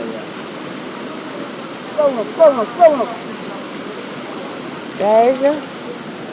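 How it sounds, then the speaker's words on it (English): Floodwater runs off through a residential community after a long rain shower, a steady rushing wash that continues throughout, with people talking intermittently over it. "But we know say water run off now"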